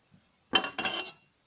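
A blade cuts through a small loaf of red palm oil and shea soap in two short, close, scraping strokes with a slight metallic edge, after near silence.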